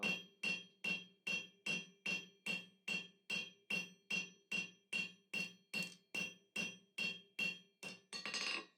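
Hammer ringing on a steel bar being forged into a round taper, about seventeen evenly spaced metallic blows in a steady rhythm, clear and close.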